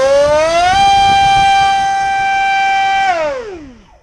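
An RC motor spins an APC 7x6 propeller up to full RPM on a 6S setup, a loud, steady high-pitched whine with strong harmonics that ramps up sharply, holds for about two seconds and then winds down.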